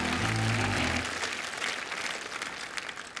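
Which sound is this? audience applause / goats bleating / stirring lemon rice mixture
audience applause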